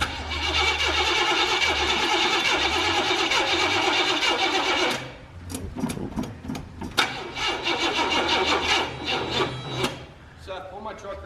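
Hot rod engine cranking: a loud, steady rasping starter whir runs about five seconds, then stops, followed by uneven sputtering catches and bursts as the motor tries to fire.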